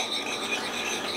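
A teaspoon of dry seasoning rubbed by hand into a chuck roast, a steady close rasping friction with no talk.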